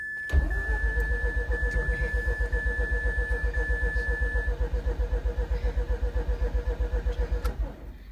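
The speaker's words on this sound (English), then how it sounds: "I'm going to go ahead and crank the car for 10 seconds" A Mazda RX8 rotary engine cranks on the starter during a compression test, a steady, even run of rapid pulsing beats lasting about seven seconds before it stops, heard close up with no talking.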